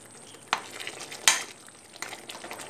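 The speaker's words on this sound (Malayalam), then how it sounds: "അത് നന്നായിട്ട് ഒന്ന് ഇളക്കി യോജിപ്പിക്കുക" Squid masala being stirred in a pan, a spoon scraping the pan in a few distinct strokes over a soft, steady background sizzle.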